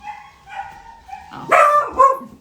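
A dog gives a few soft whines indoors, then two loud, close barks in quick succession.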